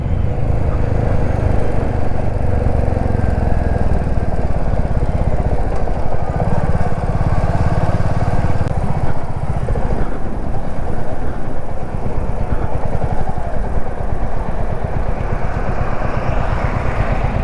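A motorcycle on a ride from Baddi to Manali in Himachal runs through a traffic jam, its engine a loud, steady close drone with wind rush and road noise throughout and no speech.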